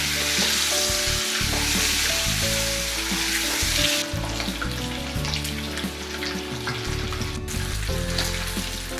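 Eggs fry in a pan for an Odia-style egg masala seasoned with turmeric and salt, a steady close sizzle with soft crackles and a brief scraping stir partway through, no voices.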